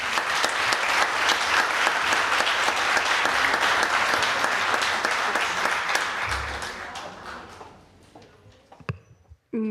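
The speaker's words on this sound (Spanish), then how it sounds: "recibimos con un fuerte aplauso" An audience at a Canary Islands civil protection and emergency-response conference claps in a dense, loud burst that holds steady and then tapers off into near silence with a few stray sounds.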